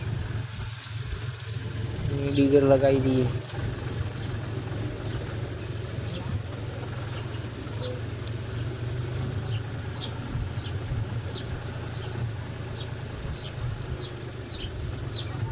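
A John Deere tractor's diesel engine runs at a steady idle, a low, even drone throughout, with someone talking briefly over it near the start.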